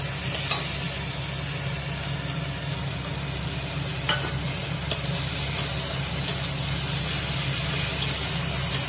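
Ground onion, garlic and ginger paste goes into a hot frying pan with whole cumin, giving a steady close sizzle with faint stirring scrapes and a few light clicks, alone with no talk.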